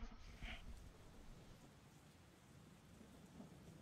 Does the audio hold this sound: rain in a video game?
yes